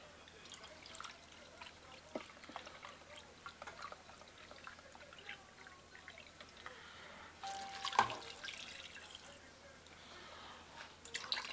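Beef stock pours and trickles quietly into a pressure cooker pot, faint splashing and dripping with a brief louder gush partway through, low room noise throughout.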